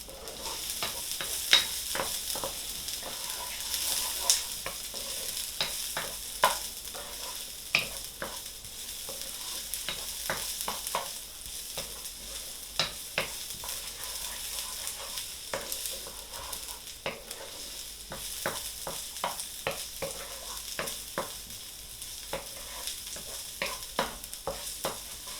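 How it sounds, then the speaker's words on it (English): Chili peppers, onion and spring onion stir-fry with ginger in a pan, a continuous soft sizzle broken by frequent sharp scrapes and clinks of stirring throughout. "then we're going to be frying the chili peppers"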